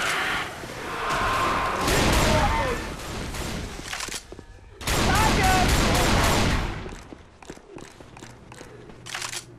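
Bursts of rapid gunfire fill a chaotic Left 4 Dead 2 Xbox 360 co-op match on the Dead Center campaign, loud and dense in two long volleys with scattered single shots between, while players shout over the shooting.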